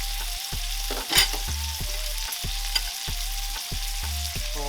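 A Wagyu ribeye steak sizzling in butter in a pan, a loud steady close frying crackle with occasional spatters over a rhythmic pulsing background hum, no voices.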